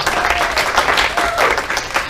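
An audience at a stage premiere claps for about two seconds, a dense, lively patter of many hands.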